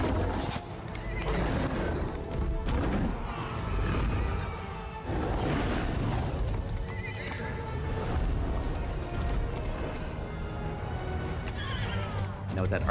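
A horse neighs and whinnies loudly in a Bethesda video game scene, with hoof clip-clops and game action layered throughout and voices talking over much of it.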